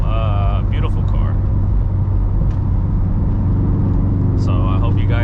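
Subaru WRX STI fitted with a Tomei Ti exhaust droning steadily from inside the car on a drive, a loud continuous low rumble throughout, with a brief voice or squeak near the start and end.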